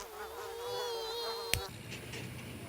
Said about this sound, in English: The mosquitoes around here, they get pretty bad.